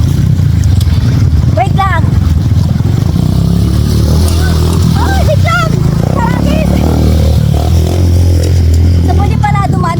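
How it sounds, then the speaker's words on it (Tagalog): Motorcycles pass along a trail at a river crossing near Kinayan Mainit waterfalls, their engines revving and clattering nearby while people shout and talk over the noise. "So, pwede pala dumaan yung mga motor dito"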